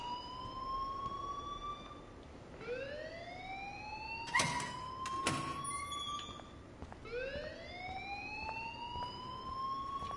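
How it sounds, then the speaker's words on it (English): A wailing siren-like alarm in the video game Life is Strange, rising and sustaining in repeated sweeping cycles, with a few sharp clattering hits partway through. "please turn off that alarm since that's your job"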